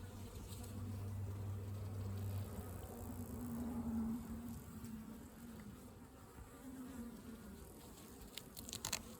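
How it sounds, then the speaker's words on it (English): Honey bees buzz steadily inside a split hive, a dense low hum that swells and fades slightly throughout, close and continuous with no talking. "For being a split, there's quite a few bees in here."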